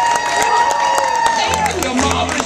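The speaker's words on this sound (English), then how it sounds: "let's have a round of applause for someone who really needs it" An outdoor crowd at a Captain Jack Sparrow pirate show at Walt Disney World's Magic Kingdom claps and cheers with scattered sharp claps, while someone talks loudly over the noise and tonal music plays underneath.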